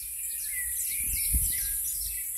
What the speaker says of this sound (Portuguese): Muito cantar de pássaros aqui.